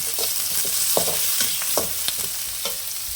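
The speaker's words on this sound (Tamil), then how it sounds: "இப்போ வந்து வெங்காயம், பச்சை மிளகாய், கருவேப்பிலையை உள்ளே போட்டுக்கலாங்க ஃப்ரெண்ட்ஸ்." Onion, green chilli and curry leaves stir-frying with mustard seeds in a pan for egg fried rice, a steady loud sizzle with spatula scrapes and stirs every half second or so, no talking.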